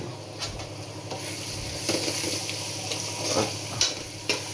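Tomatoes tossed into a hot pan for tomato rice, giving a soft sizzle with scraping and stirring clatter, a few sharper knocks near the end; no voices.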